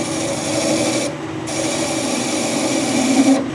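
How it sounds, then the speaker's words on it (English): Hand file rasping across a chamfered metal end to round it off, a steady close scraping with a brief pause and a slightly louder stroke near the finish. "Carefully with the file,"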